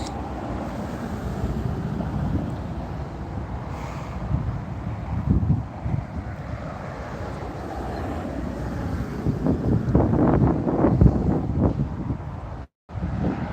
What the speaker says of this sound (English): Oh, that wind feels great.